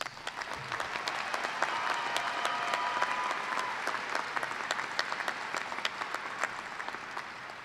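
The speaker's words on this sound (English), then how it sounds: "Please join me in an applause to acknowledge the scholastic achievement of all of these students" Commencement audience at a University of Toledo fall ceremony applauds graduating students with steady, sustained clapping from a large indoor crowd, even and continuous for several seconds with no voices over it.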